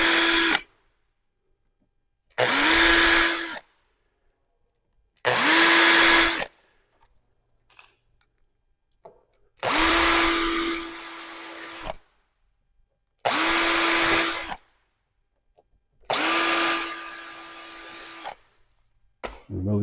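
Power drill boring pilot holes into a car body while fitting a roof spoiler, six loud close bursts of high whining drilling, each a few seconds long, separated by silences.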